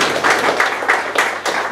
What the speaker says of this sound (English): I think a round of applause for David for sure.